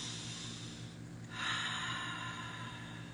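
Slow, deep breath during a guided relaxation exercise, a long close airy inhale or exhale that swells midway, alone and soft with no talking.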